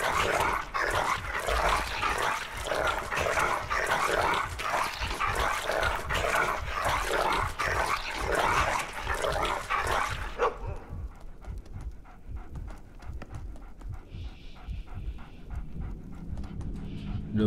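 A dog pants heavily and barks in a Game of Thrones RPG, the rapid rhythmic breathing loud and close for about ten seconds before it drops away to quieter ambience and faint game sounds.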